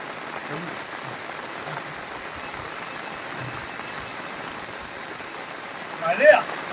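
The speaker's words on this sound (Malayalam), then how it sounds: "ഭയങ്കര മഴയാ" Steady rain hissing down across the whole stretch, a dense even patter with a brief louder rustle near the end.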